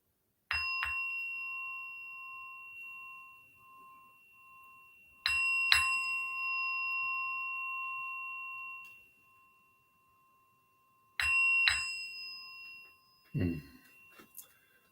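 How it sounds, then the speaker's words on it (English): Small bell rung three times before a guided meditation at a Sunday service, each strike a clear ringing ding with a long fading tone, spaced several seconds apart in a quiet room, with a soft bump near the end. "I'm going to ring the bell 3 times, and then we're going to step into a guided meditation"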